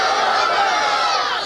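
A large religious gathering roars out a chanted slogan together, a loud dense burst of many voices shouting in unison.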